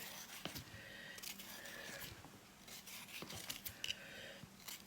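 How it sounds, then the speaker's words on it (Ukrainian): A knife slices a bell pepper lengthwise on a board, soft scraping and crisp cutting strokes repeating irregularly, close but quiet with faint background noise. "Перець треба різати повздовж"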